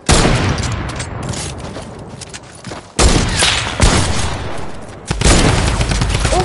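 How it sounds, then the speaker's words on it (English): Sniper rifle gunfire in the Black Ops video game, with loud sharp cracks at a few points, each followed by booming rumble and dense clatter that fades slowly, loud and close with no talk. "We're only using snipers right now, sniper battle. Yeah, Black Ops."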